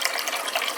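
Tap water runs in a steady hissing stream into a cooking pot, close and continuous without any talk.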